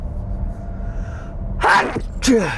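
A single sharp sneeze bursts out after quiet room tone, followed moments later by a second shorter sneeze.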